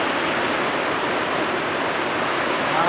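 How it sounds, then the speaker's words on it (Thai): Sea waves by a white lighthouse on the coast at Inubosaki, Chiba, a dense steady wash of surf and spray that stays loud and unbroken, with no voices. "ทะเล"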